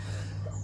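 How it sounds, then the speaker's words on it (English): A single short cough bursts out at the very end, close and loud, after a quiet hum. "I have been coughing and blowing my nose like a trooper this morning."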